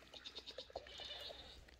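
Goats bleat in short, quavering bursts, several overlapping calls at low volume from some distance, with no talk.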